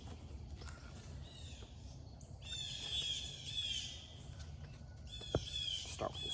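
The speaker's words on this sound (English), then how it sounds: "those birds are really loud right now" Several birds sing loudly and persistently in bursts of bright, trilling song, with a low rumble and a couple of sharp knocks underneath.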